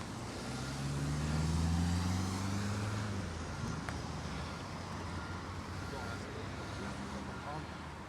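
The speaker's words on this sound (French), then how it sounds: "les voitures vont pouvoir passer de l'autre côté" Cars and traffic pass along the reopened Campo dell'Oro dual carriageway, a steady roadway rumble with one vehicle swelling near and then fading, and low engine tones under the wash.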